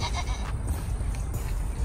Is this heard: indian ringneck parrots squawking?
no